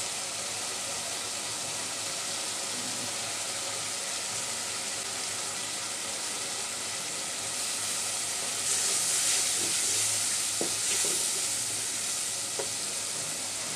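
Shrimp frying with chili paste in a pan, a steady close hiss and sizzle that grows louder and crackles more intensely partway through, with occasional soft knocks.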